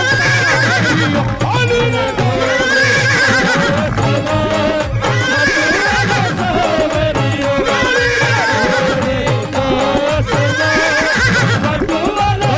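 Horse neighing and clip-clopping hooves used as a sound effect within a Hindi devotional song, with repeated loud whinnies set over music and singing.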